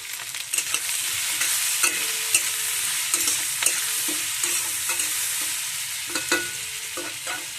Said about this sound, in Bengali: তো এইভাবে একটু নেড়ে চেড়ে ভেজে নেবো।